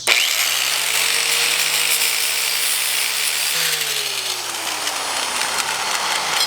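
A power tool cuts through a metal bracket on a turbo Honda Civic, giving a loud steady motor whine that holds, then drops in pitch as the tool slows, over a harsh, noisy cutting hiss.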